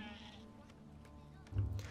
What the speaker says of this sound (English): I don't like killing sheep.